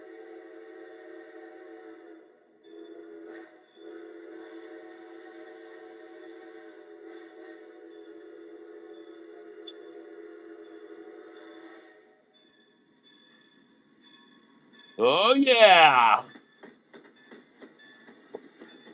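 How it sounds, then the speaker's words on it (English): A train passes by, its sustained rumble and steady hum carrying for about twelve seconds before fading, followed by a loud, brief burst of screeching or horn-like noise near the end; a voice speaks briefly. "And listen to the train."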